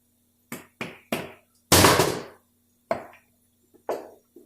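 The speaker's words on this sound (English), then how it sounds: "I just tapped it with a hammer very lightly so it pop past that seal" A hammer lightly taps a plug on the back side of an engine block during a Dodge 46RE transmission rebuild. There are several sharp, close knocks with short pauses, plus one longer, louder clatter near the middle.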